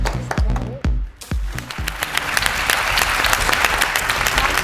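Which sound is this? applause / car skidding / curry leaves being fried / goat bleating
applause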